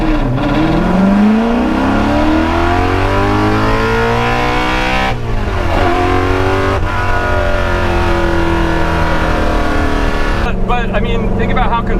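A Ford GT40 engine roars loud and close as the car drives, with rising revs and gear-change breaks. The engine note stays steady and dominant throughout.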